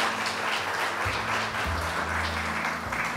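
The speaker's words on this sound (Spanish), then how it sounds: "Voy a pedir un aplauso para nuestros exponentes." An audience at a sustainable-cities seminar applauds its speakers with dense, continuous clapping that holds steady throughout.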